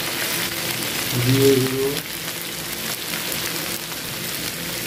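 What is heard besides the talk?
potatoes and spices frying in a pan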